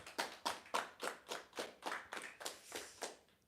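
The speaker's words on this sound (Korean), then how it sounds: "왕 되신 주님께 영광의 박수를 올려드리겠습니다" A church congregation claps in unison with about eleven evenly spaced, crisp claps, steady and fairly close. The claps stop cleanly at the end and no one speaks.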